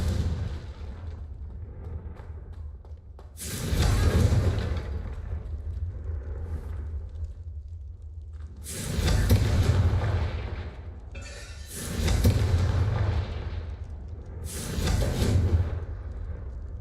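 Four heavy booming blasts of the Confringo fire spell in Hogwarts Legacy, each a loud close explosion with a rumbling tail, spaced several seconds apart over a low background drone.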